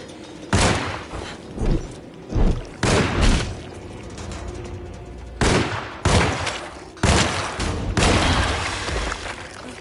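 Gunfire from the video game Alone in the Dark: a series of loud, close, separate bursts of shots, some short and some longer rattles, spread across several seconds with brief gaps between them.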